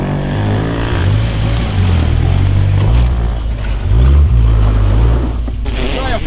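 A winter beater car drives close by with a loud engine that revs up and falls back several times, a muffled rushing noise underneath, while people talk over it.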